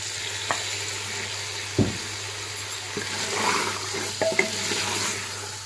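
Chopped tomatoes and green chilies frying with beef and potatoes in a curry pan: steady sizzle with occasional sharper knocks and scrapes of a spoon, a louder thud near two seconds, constant background hum, no talk.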